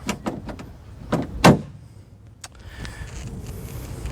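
Door handle and latch of a Lexus SC430 coupe, worked after a latch cable replacement: several sharp clicks and clunks close by, with one louder thunk of the latch near the middle, then quiet handling noise.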